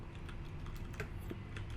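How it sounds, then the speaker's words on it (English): Rapid typing on a computer keyboard, a quiet, close run of uneven key clicks and taps at a steady working pace, with no talking. "I'm going to just start typing to get rid of that kind of annoying message there"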